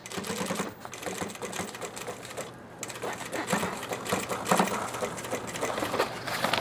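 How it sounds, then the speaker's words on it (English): A sewing machine with a dull needle stitches nylon Dyneema fabric, a close, steady mechanical whirr with rapid needle thumps that speeds and slows slightly as the seam goes on. "Sounds like I have a bit of a dull needle here."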